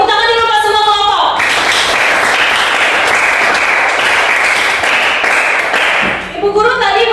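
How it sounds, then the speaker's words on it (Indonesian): A vocational high school classroom of students applauds all the presentation groups, a loud burst of many hands clapping together that starts after a voice and fades as talking resumes. "Tepuk tangan dulu buat semua kelompok."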